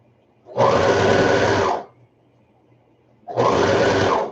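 A sewing machine stitches the hem of knit kids' lounge pants in two steady, loud, whirring bursts of about a second each, separated by a short pause.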